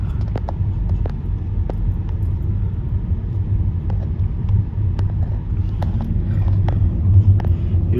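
Steady road traffic rumbles from cars near a bridge on a road trip toward New York, a loud continuous engine and tire drone with occasional sharp clicks and wind buffeting.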